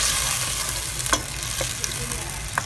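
Fish curry ingredients stir frying in a pan give a steady, close hiss of sizzling, with a few faint clicks from stirring.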